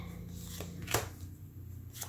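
Tarot cards are handled and laid out on a surface, with soft papery slides and a couple of sharper snapping flicks, quiet and close with no speech.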